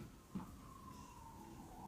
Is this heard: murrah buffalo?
no